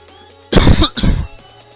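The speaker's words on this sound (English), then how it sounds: "Sorry about all the coughing" Two harsh coughs in quick succession, close and loud, from a man playing a factory-building game, each burst short and throaty with a brief gap between.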